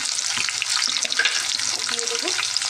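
Taro pieces frying in a pan with turmeric for kochu mukhi: a close, steady hiss of sizzling oil with light stirring scrapes on top.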